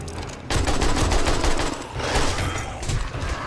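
Rapid bursts of AK rifle fire in 7 Days to Die, dense and loud with short pauses between strings of shots, during a zombie horde night.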